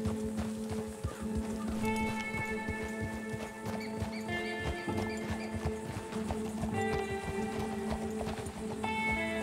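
Horse hooves clip-clop in a rhythmic, steady trot in the Red Dead Redemption 2 video game, accompanied by faint jingling tack and a low background rumble.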